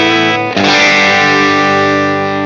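Electric guitar through a Beasttube pedal in booster mode driving the amp into saturation, a chord struck and then restruck into a thick, sustained, loud, gritty ring.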